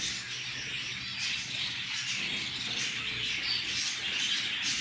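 Finches in a large bird store give a dense, continuous chorus of high chirps and squawks, fairly near and steady, with no talk over them.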